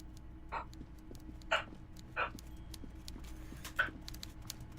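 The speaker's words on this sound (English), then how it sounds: "What is Daisy barking at? She's freaking out." A dog barks in another room of a house, four faint, short barks spaced a second or so apart over a low, steady background hum.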